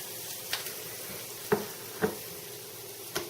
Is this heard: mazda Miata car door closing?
no